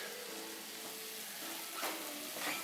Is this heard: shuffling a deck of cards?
no